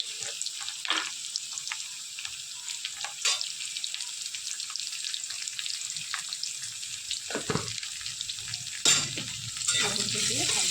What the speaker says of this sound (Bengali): লবণটা দিয়ে ভালো করে পেঁয়াজটা লাল করে নেব।